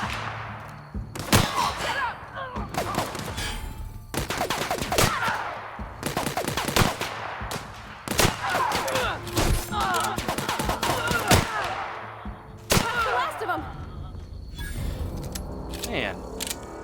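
Marauders open fire in the video game The Outer Worlds, with repeated loud bursts and single shots cracking in uneven clusters across the whole stretch, dense and close with short gaps between volleys.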